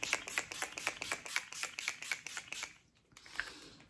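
A rapid series of short, sharp spritzes from a makeup setting spray bottle, close up and fairly quiet, followed by one last spritz after a pause.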